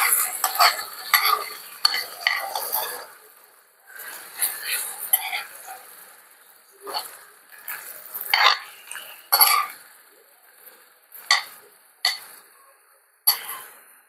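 Chicken and other ingredients stirred together in a frying pan, with repeated scraping strokes and short bursts of sizzle in an uneven rhythm, close by and fairly loud with pauses between strokes.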